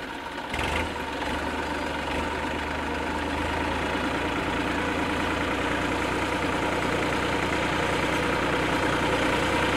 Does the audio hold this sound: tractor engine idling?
yes